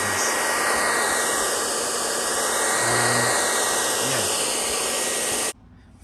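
A hair dryer blows onto brake parts of a Jaguar XJR X350 as a steady, loud airy roar. It runs unbroken for about five and a half seconds and then cuts off abruptly.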